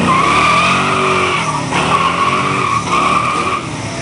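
Loud, sustained squeal of car tires burning rubber at a muscle car show, the pitch wavering with brief dips as the engine roars underneath.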